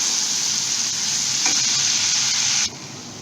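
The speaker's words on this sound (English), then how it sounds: "Fry these masalas nicely." Spice masalas with Kashmiri red chili powder fry in a pan for a Bengali fish curry, giving a close, steady, bright sizzle with a brief stirring scrape midway before the hiss suddenly drops lower near the end.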